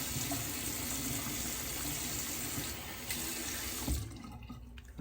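Tap water runs steadily into a sink while a face is rinsed after a shave, clearing lather and stray whiskers around a goatee; the flow stays loud and continuous, then thins and cuts off near the end.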